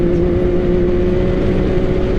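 A 2021 Can-Am X3 Max XRS Turbo RR side-by-side drones loudly and steadily as it accelerates up to speed, the engine and turbo tone holding close and continuous.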